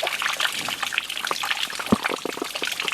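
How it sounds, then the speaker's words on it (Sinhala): Clean mountain water trickles and splashes down from the slope above, close and continuous with small irregular gushes. "මොනතරම් පිරිසිදු වතුරද මේ උඩ කන්දෙන් එන වතුර"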